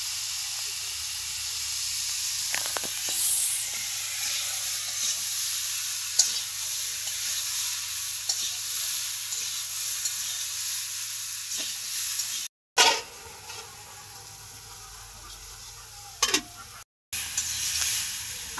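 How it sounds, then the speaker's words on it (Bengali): Vegetables including potato, brinjal and pointed gourd fry in a pan over a wood-fired stove, a steady close sizzle and hiss broken by occasional stirring scrapes and two short dropouts. "আমরা আনাজটি বাজিয়ে রান্ধি"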